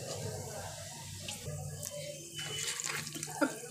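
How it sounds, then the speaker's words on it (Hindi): Whole garam masala spices fry in hot oil, giving a steady close sizzle and hiss with small crackles and brief pops throughout, and a voice is heard faintly under it. "ये गर्म मसाला, इसमें हम डाल देंगे। इसे हल्का सा हम तेल में भून लेंगे।"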